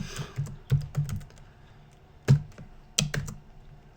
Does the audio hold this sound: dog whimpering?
no